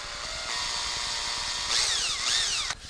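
A power drill runs a tap into screw holes in soft styrene, steady motor whine rising in pitch as it spins up, then dipping and swelling twice before cutting off near the end, close and alone.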